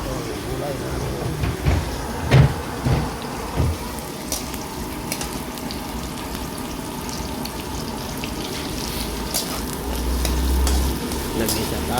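Garlic and onion sautéing in a pan, a continuous close sizzle with occasional stirring clatters and knocks throughout.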